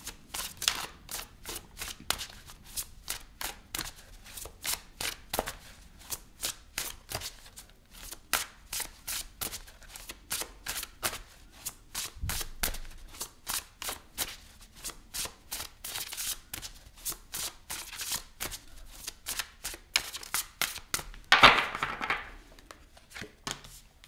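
Tarot cards shuffled by hand over a long stretch, a steady stream of soft crisp riffling flicks and snaps with a brief louder flurry near the end, no talking.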